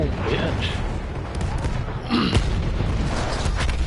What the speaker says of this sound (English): That explosion was one of the sweetest sights of the war for me.